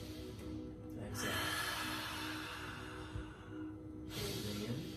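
A person breathes in and exhales audibly with a soft "ha" during a neurolymphatic reflex exercise, the breath steady and fairly close over a low constant background hum.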